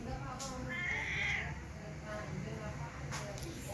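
A mother cat meows, one drawn-out cry fairly close and faint over a quiet outdoor background, with a person speaking afterward.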